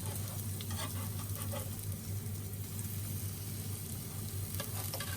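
Cacao, banana and walnut pancakes fry in a pan, a soft continuous sizzle over a low steady hum, with a few light crackles and no voices.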